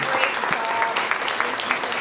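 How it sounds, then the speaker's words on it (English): A conference audience applauds its keynote speakers after a panel discussion, a brief burst of brisk, fairly close clapping from many hands with a voice faintly mixed in. "everyone, please give a big round of applause to our keynote speakers"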